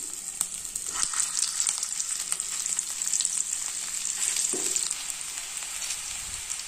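Bitter gourd (karela) fries in a little hot oil, giving a steady close crackling sizzle with scattered pops and the occasional scrape of a stirring utensil. No one speaks.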